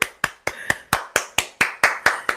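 One person clapping their hands in a steady rhythm, about ten sharp claps in quick, even succession, close and clear with no talking.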